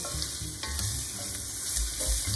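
Garlic fries in hot oil with a steady, close crackling sizzle, and no voices.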